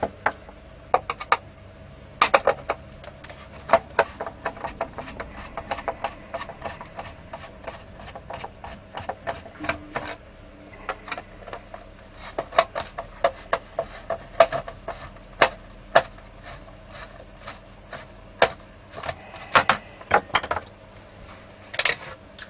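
Someone unscrews and pulls apart a Freeplay radio recovered from a canal, making irregular small clicks, ticks and plastic scrapes that come in bursts with brief pauses, close and fairly quiet.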